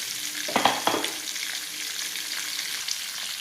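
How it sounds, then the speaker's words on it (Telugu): Cauliflower stirred in a pan with turmeric and salt: a steady close sizzle of frying, with a few scraping stirs near the start, and no talking. "బాగా తిప్పాలండి. అంతా పసుపు ఉప్పు కలిసేటట్టు తిప్పుకోవాలి."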